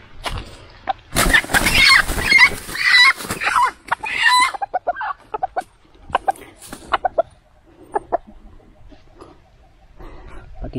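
Wild junglefowl (labuyo) clucking and calling near the mic in a series of short bursts, with a dense cluster early on and sparser sharp calls later against a quiet outdoor background.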